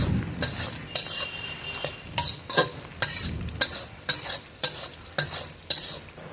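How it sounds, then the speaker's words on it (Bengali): Onions sizzle in a pan, frying until browned for mutton curry, while a spoon stirs them in regular scraping strokes, roughly two per second, close and clear with no talking. "পেঁয়াজটাকে লাল করে ভেজে নেব"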